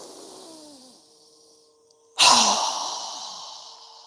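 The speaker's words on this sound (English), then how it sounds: "we're going to exhale with a strong exhale with our mouth open wide as we lower our arms and hands down" A strong, breathy exhale through a wide-open mouth during yoga breathing, a single loud rushing breath that fades gradually, preceded by a quieter breath.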